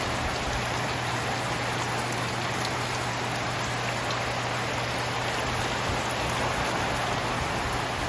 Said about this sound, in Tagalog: Dahil napakalakas ng ulan, napakalamig ng panahon.